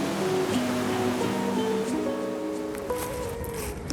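Steady broadband rush of river water flowing, continuous and fairly close, with a few faint tonal traces over the wash and no talk.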